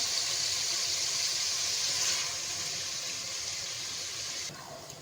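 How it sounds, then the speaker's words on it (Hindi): A glass of water poured into a potato and eggplant curry in a pan, heard as a steady, continuous wash of pouring and gushing water that eases off slightly toward the end, with no talk. "1 गिलास हम पानी इसके अंदर ऐड करेंगे।"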